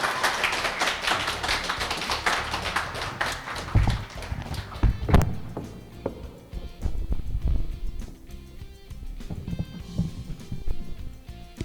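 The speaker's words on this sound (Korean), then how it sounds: "박수로 환영해 주시기 바랍니다." A church congregation applauds to welcome a missionary saxophonist at a Sunday service, a sustained crowd clapping that starts loud and dense, then thins into scattered claps and taps.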